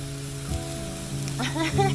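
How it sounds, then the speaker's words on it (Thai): Pork sizzles loudly and continuously on a hot Thai barbecue grill pan (moo kratha), with a brief voice heard near the end. "เขามีหมูกระทะขายด้วย"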